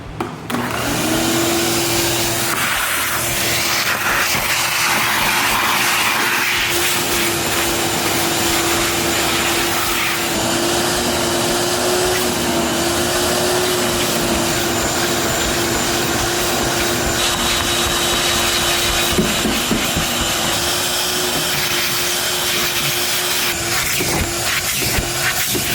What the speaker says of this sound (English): Vacuum time.